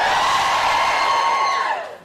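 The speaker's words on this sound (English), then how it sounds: "Can you give me a cheer if you're a student?" A studio comedy audience of students cheers and whoops loudly together in one sustained burst for about two seconds, tailing off at the end.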